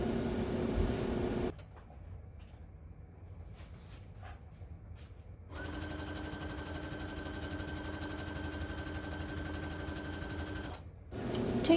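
A sewing machine runs steadily for about five seconds while stitching ribbon trim onto a tutu. The hum is close and even, set against quieter handling noise before and after it.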